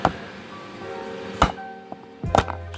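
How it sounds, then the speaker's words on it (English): Plastic trim piece being pried off the driver door panel of a 2013 Nissan Pathfinder, heard as a few sharp close clicks and snaps spaced out over a quiet background. "start off by removing this trim piece here, just like so."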